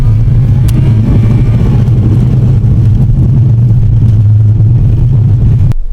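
A car labouring over the Al Wathba sand hills in Abu Dhabi: a loud, constant low engine drone under strain, close and unbroken, with wind roar and a faint click near the end.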